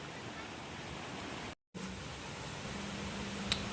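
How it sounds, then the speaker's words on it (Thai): Nang Rong Waterfall in Nakhon Nayok, Thailand, flowing at a steady, moderate volume: a constant broadband rush of water that cuts out briefly near the middle and then resumes. "ตอนน้ำตกที่นี่มี น้ำกำลังพอดีเลยนะช่วงนี้"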